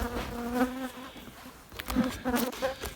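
Honeybees buzz steadily inside an overcrowded observation hive, a close, continuous drone with swelling wingbeat tones and no talking.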